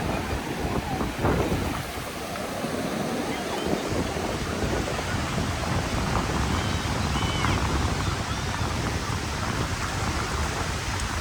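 Surf waves at Smiths Surf Beach roll in as a continuous rushing roar, loud and steady with wind buffeting the microphone, and a voice speaks briefly under the noise.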